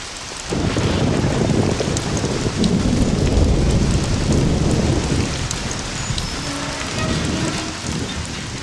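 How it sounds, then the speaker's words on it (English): Night rain in the video game Mafia, a steady loud downpour with low rumbling thunder and a faint wind beneath, continuous and enveloping without speech. "You can feel the night rain, creaking sound, and this eerie general sensation throughout the entire beginning."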